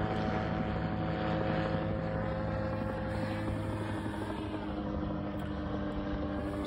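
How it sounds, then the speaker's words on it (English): A steady, continuous helicopter drone with a constant rotor hum fills the whole stretch, fairly close and unbroken, with no talking over it. "helicopter."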